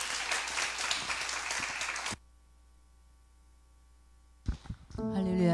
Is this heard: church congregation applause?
yes